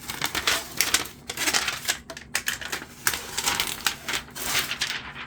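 Protective plastic film is peeled off the glossy piano-finish casing of a ZEEMR D1 / Diva Pro portable projector, producing close, irregular crackling and crinkling bursts with no speech.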